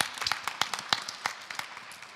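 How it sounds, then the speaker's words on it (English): Audience applause at the Impact Valley showcase day of social-impact pitches: a thin, fairly faint patter of separate claps, uneven and close together, with no voices over it. "let's give a big round of applause to Surink Lietuva"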